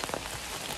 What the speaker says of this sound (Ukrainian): Дощ паде вже півгодини, і то такий добрячий